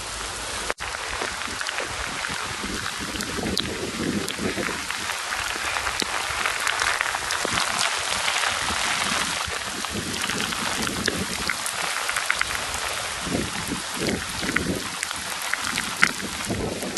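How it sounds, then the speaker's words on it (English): Steady heavy rain pours down outdoors in a wet woodland, a dense continuous hiss of drops striking surfaces close by, loud and unbroken throughout with no talk. "That's called Irish rain."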